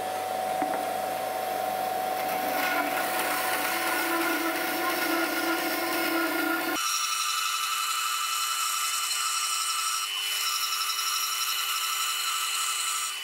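Band saw ripping a wooden board without a rip fence, a steady loud whining drone with a tonal hum that shifts partway through as the cut continues, running alone without talk.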